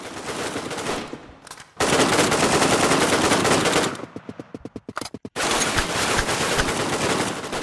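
Rapid automatic gunfire from the Redmatch 2 video game, loud close bursts of fast shots that break off briefly and resume, with no talking over them.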